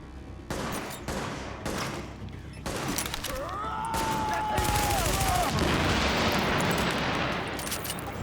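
Video game gunfire in a shooter with incoming hostiles, a few separate shots then a sustained close burst of rapid fire, with a whistling projectile sweep through the middle.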